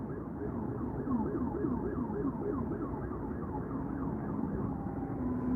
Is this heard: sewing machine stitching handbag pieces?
no